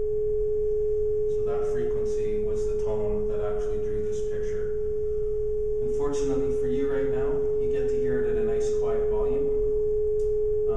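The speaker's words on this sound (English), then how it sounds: "I'm sending pure tones or sine waves through to the metal" A steady, pure sine-wave tone from a speaker hums continuously throughout, sent through a metal plate, with a person talking over it.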